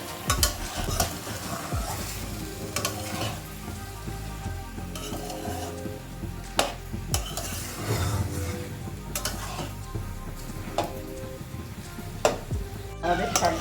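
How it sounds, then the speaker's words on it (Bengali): Water spinach frying in an open pan is stirred and turned, a dense continuous sizzle with repeated scraping clicks of the spatula against the metal, close and steady throughout. "খুলে নাড়াচাড়া দিয়ে দেখব"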